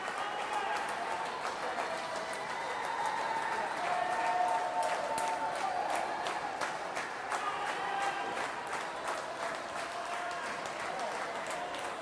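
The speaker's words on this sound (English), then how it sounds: "Great support from the crowd for her. Really encouraging her, clapping her on," Spectators at a 2012 Summer Games swimming race clap and cheer a female swimmer, a fairly quiet, continuous wash of crowd noise heard from a distance beneath a commentator's voice.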